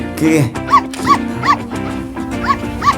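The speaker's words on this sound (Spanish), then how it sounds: "Un perro, sí, el perro del vecino." A dog barks repeatedly in a steady rhythm, several sharp barks about every half second, fairly close and loud, with some voice-like sound mixed in.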